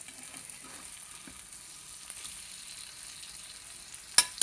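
An egg attu, an egg dosa, fries in a pan over low heat, giving a faint, steady sizzle with light crackle throughout and a brief sharp clink near the end.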